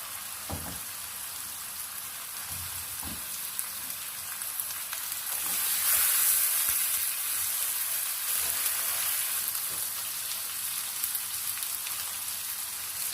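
Chicken frying in a pot with browned onion and garlic-ginger paste, a steady close sizzle with soft stirring scrapes that swells midway and stays even, no voices.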